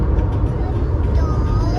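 Motorbikes pass over a long bridge near the coast, a dense, continuous road rumble heard up close, with voices talking over it.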